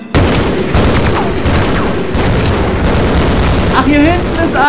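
Hand grenade explosions and bursts of gunfire in the video game Half-Life, a continuous loud barrage of booms and rapid shots with a brief gap before the blasts start.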